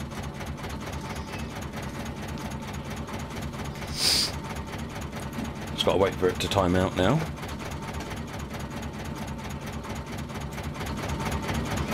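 A locomotive engine idles in Train Simulator 2019 with the Corris expansion, giving a steady low rumble throughout while someone talks over it, with a brief click near the middle.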